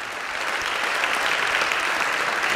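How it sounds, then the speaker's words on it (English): A church congregation claps steadily and fairly loudly, a dense, even patter of applause that holds throughout. "So you give them a round of applause."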